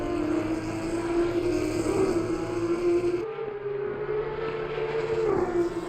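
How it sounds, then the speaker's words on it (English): Race car engines roar steadily in an ACC sim race at the Nürburgring GP circuit, with Porsche Cup cars and GT3 cars on track, a continuous droning note that shifts pitch midway as a car passes or changes gear. "listen to the roar of the engines here"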